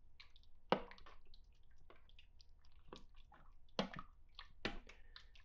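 Beef, burger, bacon and hot dog soup being stirred in a slow cooker gives quiet, irregular wet sloshes and a few sharper clinks, spaced over several seconds with no voices.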